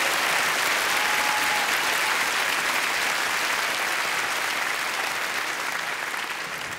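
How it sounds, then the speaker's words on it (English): Comedy-club audience applauding servicemen during a stand-up show, a dense, steady roar of clapping throughout that eases off slightly toward the end, with no talking over it. "Give them a round of applause out there protecting us in 3 different countries."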